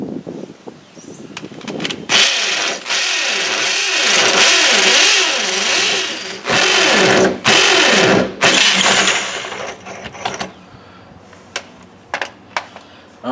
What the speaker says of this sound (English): I'm going to drill in this area here. And I'm using a 1/2 inch bit